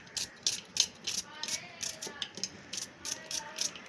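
Onion sliced with a knife on a cutting board for frying, giving a series of quick, faint crisp chops in uneven rhythm, close by and quiet.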